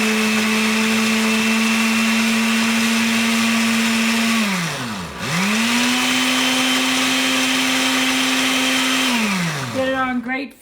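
A kitchen blender whirs steadily with garlic inside, its motor winding down near the middle before spinning back up to full speed, then slowing again toward the end, loud and close with no talk.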